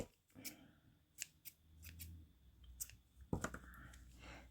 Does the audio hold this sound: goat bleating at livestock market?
no